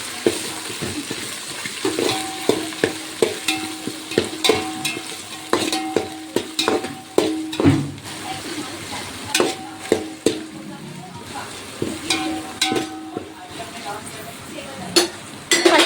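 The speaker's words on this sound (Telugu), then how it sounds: "పుదీనా, కరివేపాకు వేసుకొని ఫ్రై చేసుకుందాం." Mint and curry leaves frying for chicken biryani, with steady sizzling, stirring scrapes and occasional utensil clinks close by through the whole stretch.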